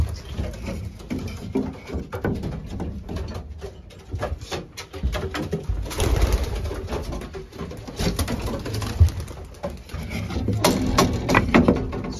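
Racing pigeons outside the loft give soft, low coos amid wing flutters and wooden tapping and pattering, close and fairly quiet, continuing intermittently throughout.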